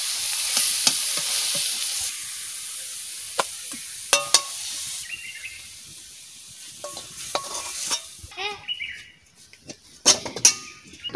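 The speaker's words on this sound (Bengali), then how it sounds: "ভাজা হয়ে গেছে, নিরামিষ তরকারি হয়ে গেছে" Vegetable curry fries in a pan, with a sizzle that fades partway through, then sharp scraping stirs and clatters of a spoon against the pan; faint bird chirps are heard in the background.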